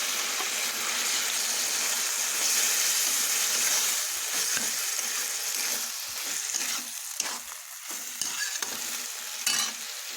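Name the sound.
ground ginger-chili paste and water added to a frying pan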